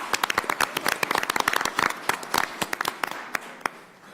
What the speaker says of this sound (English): So if everyone can give our Taft family a big round of applause